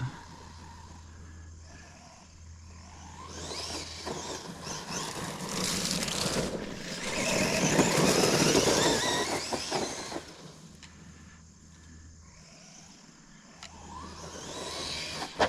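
An ARRMA Quake RC car at high throttle gives a rising, whining motor roar that swells loud mid-clip and then drops back toward quieter running, with a low steady hum underneath.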